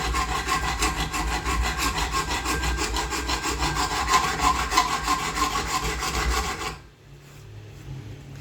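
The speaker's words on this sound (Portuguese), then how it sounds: "Então eu vou usar minha grosa aqui," Rapid, steady strokes of a hand rasp filing knife handle scales scrape back and forth near the mic, a dense gritty filing that stops abruptly near the end.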